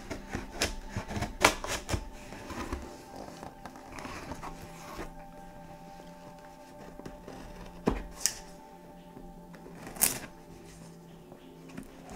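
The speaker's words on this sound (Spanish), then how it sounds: "Esto está demasiado empaquetado para quitar el celo." Tape is peeled and pulled from overpackaged stationery packaging, giving scattered crinkling, tearing and tapping noises with a few sharp louder snaps, close and uneven in rhythm.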